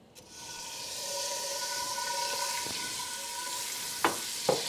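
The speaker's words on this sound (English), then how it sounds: "I'm going to go ahead and add a 1/4 cup of butter to the pot" A quarter cup of butter melting in a pot over medium heat for chili mac, making a soft, even hiss and fizz that rises and holds steady, with two sharp clicks near the end.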